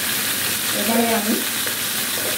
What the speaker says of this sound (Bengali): গাজরগুলো দিয়ে দিচ্ছি। গাজরগুলো 4 টুকরো ছোটো ছোটো করে দিচ্ছি।